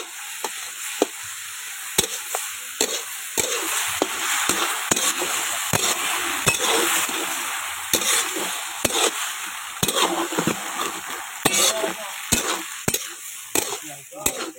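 A spoon stirs rice and slit green chillies frying in a pan for prawn chilli pulao, a steady sizzle under repeated sharp scrapes and knocks against the pan, close and alone with no talk.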